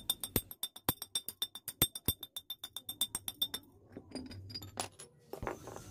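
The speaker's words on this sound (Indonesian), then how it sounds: "kalau kalian ingin memperbesar lubangnya kita pukul-pukul pelan seperti ini di pinggir-pinggirnya aja" A nail taps the edge of a hole in a glass syrup bottle, a fast run of sharp, ringing clinks at a steady rhythm, close and clear, then a few scattered softer knocks and scrapes.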